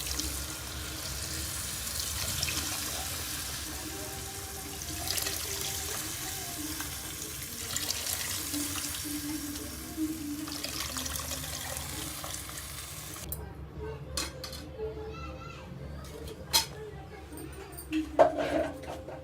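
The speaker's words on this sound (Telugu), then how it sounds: "మనం ముందుగా రెడీ చేసుకున్న చింతపండు పులుసు అయితే పోయేసుకుందాం." Tamarind extract is poured into a simmering village-style fish curry of gendi bocche fish, giving a steady liquid wash with sizzling for about thirteen seconds before it settles into a quieter bubbling simmer with small clinks.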